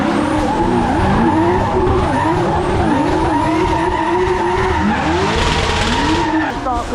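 Cars drifting at an outdoor car show, tires screeching and skidding in repeated wavering squeals over roaring engines, loud and sustained with the pitch rising and falling as the cars slide.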